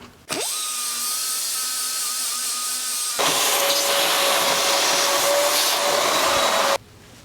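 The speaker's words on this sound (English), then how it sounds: "On this side, I'm gonna use the plasma cutter" Plasma cutter slicing through painted steel on a Bronco windshield frame during repair, a loud steady hissing roar that starts abruptly, shifts to a harsher rush midway, then cuts off sharply; no talking.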